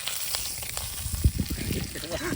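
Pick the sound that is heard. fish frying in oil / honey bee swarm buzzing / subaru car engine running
fish frying in oil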